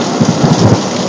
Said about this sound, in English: the downpour from my gutters that I just cleaned